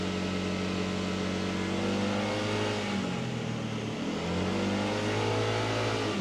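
A Keeway XDV 125 scooter engine revs steadily at a sustained pitch on a dynamometer, warming the belt transmission, dipping briefly midway before climbing back, loud and continuous with no talking.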